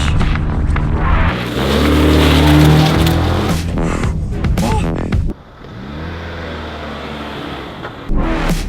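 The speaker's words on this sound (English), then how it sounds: "We've got a long strip up ahead, rev it a little, launch." A 2015 Jeep Renegade midsize SUV revs, then launches and accelerates hard, engine loud and rising through the gears, with a brief drop in level as it shifts and a faint voice over the steady pull.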